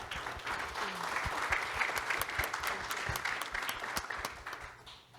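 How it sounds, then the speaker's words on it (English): A conference audience applauds its panelists with sustained, even clapping at moderate volume that swells slightly and then tapers off near the end. "Round of applause for our panelists before we go to questions."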